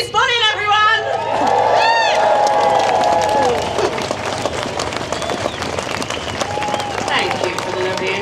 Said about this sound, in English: give a huge round of applause to broadcaster, biologist and president of the Wildlife Trust